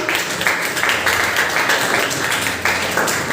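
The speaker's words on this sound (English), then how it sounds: "Clap for them." Middle-school students applaud a quiz team during a literary week competition, a steady dense patter of many hands clapping in a classroom, close and continuous throughout.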